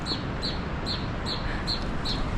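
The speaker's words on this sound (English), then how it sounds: "just like some birds that are like attacking each other." Birds at Havasupai call in a steady series of about seven sharp, evenly spaced chirps over constant rushing background noise, moderately near.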